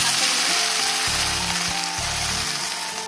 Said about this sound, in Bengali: রসুনটা লাল করে ভেজে নেবো